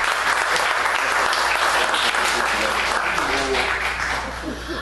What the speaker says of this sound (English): let us please clap for Mr. Theo.